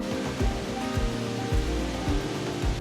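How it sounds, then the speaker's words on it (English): The Meklang waterfall rushes with a steady, full roar of falling water, broken by recurring low thumps every half second or so, with no one talking. "we've come to the Meklang waterfall"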